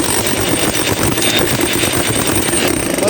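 Japanese-made workshop machine, a grinder or drill, running steadily and loudly at close range with a dense, continuous mechanical roar and no talk over it.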